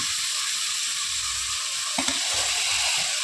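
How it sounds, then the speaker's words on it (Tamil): Tomatoes go into a pan of hot oil for biryani, giving a steady sizzle that swells briefly with stirring noises partway through. "இப்போ தக்காளி போட்டுடலாங்க"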